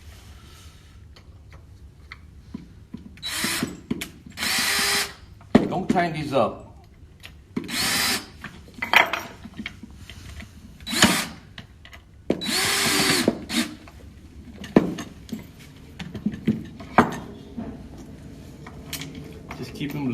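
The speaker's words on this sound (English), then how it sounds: "to make this a little more faster, I'm gonna use a drill." A power drill drives screws into a gray fabric dining chair with nailhead trim in repeated short whirring bursts, each a few seconds long, with someone talking between them.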